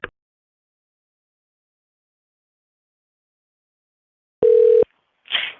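A single short telephone keypad tone sounds to select a menu option on a call to a Ferrari dealership in San Diego. A clear steady beep lasts under half a second after near silence, followed by a faint brief noise.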